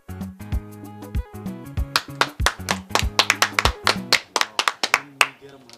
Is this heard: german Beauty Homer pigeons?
no